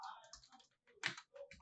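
Quiet computer keyboard keystrokes in short uneven bursts while coding in HTML and CSS, ending with a firmer press of the enter key, close and faint.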